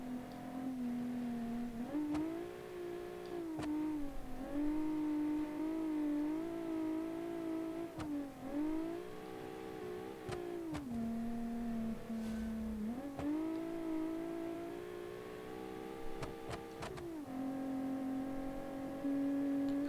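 Rally car engine in a 1982-season classic rally racing game, revving hard and dropping pitch through repeated downshifts, a loud steady drone with rising and falling gear changes and no talk.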